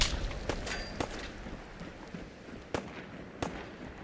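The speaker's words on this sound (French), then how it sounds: "Et qui me tire dessus là?" Gunshots crack out in Fallout 4, several sharp reports spaced irregularly over a few seconds, fairly close and standing alone without talk.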